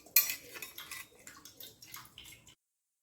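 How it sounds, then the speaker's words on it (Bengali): A coconut is struck open with a run of about eight sharp, close knocks in quick uneven succession, with a wet edge to the later hits, before everything falls silent. "এখানে আমি প্রথমে নারকেলটাকে ফাটিয়ে নিচ্ছি, ফাটিয়ে নিয়ে ভেতর থেকে জলটা বের করে নিচ্ছি।"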